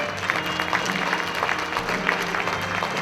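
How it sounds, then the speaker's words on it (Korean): A large audience at a Yonsei MBA awards night claps steadily and densely for an award recipient, with scattered louder claps throughout a short, sustained ovation. "다시 한번 큰 박수로 축하해 주시기 바랍니다"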